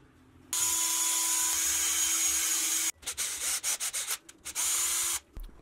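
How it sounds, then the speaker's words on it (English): A tap cuts threads into an aluminum strip for a metal lathe mod. A steady grinding rasp runs for about two seconds, then short intermittent bursts follow, all close and fairly loud. "which means I need to cut some threads first"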